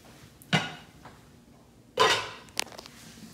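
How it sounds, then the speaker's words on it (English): A pot roast dropped into a crock pot gives a few sharp clunks and clinks against the ceramic, two louder knocks with a small rattle after, in a quiet kitchen. "Now, we're gonna throw this into the crock pot as such."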